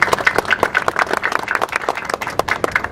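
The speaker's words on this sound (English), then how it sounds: "Give Nuria a round of applause." An audience at a press conference for the Angels Flight Railway revival claps briefly, a moderate burst of individual hand claps that is close and fairly loud.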